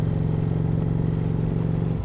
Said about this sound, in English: Let's hear what engine braking sounds like